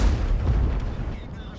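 A Leopard 1 tank cannon fires in a video game: a single heavy, close boom right at the start that rumbles away into a fading tail.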